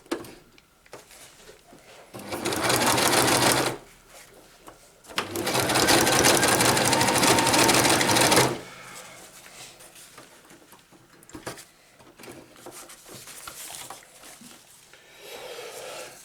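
A sewing machine stitches fabric for a stuff sack in two loud, close bursts of rapid whirring needle action, separated by pauses filled with quieter handling noises and small clicks.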